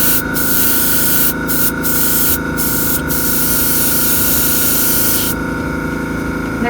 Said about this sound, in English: I have the stencil and spraying with the green